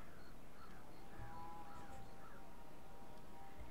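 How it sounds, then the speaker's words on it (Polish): Ravens cawing in the battle royale video game H1Z1 King of the Kill, several faint, distant calls spaced over a quiet background. "Z tamtej strony słyszę kruki."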